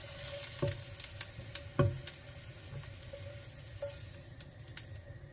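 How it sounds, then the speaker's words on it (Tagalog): Chicken sizzles steadily in a frying pan, a continuous hiss broken by a couple of louder pops and clatters, with no voices. "To fry our chicken."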